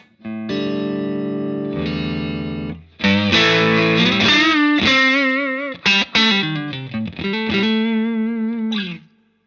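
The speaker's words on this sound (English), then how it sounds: "That sounds nice, and I'm going to turn the tone control all the way up." Electric guitar played through a tube overdrive pedal with the tone control turned fully up, bright and sustained: held chords first, then a busy run of picked single-note lines with bends and short gaps, loud and close with no talking.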